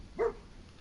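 Dogmeat, the dog companion in the video game Fallout 4, lets out a single short bark that stands alone against quiet game ambience.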